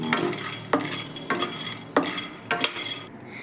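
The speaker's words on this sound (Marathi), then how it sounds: "आता आपण शेंगदाण्यांना भाजून घेणार आहे." Peanuts being dry-roasted and stirred in a pan while making tilkund modak filling, with a run of sharp scraping strokes spaced about every half second over a soft continuous sizzle, close and fairly quiet.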